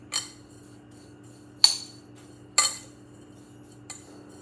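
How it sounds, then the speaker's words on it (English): A metal spoon clinks against a dish while stirring a chicken tender mixture, four separate sharp taps spaced about a second apart, close and clear over a quiet low hum. "So I did bring a spoon over here. I'm gonna just stir."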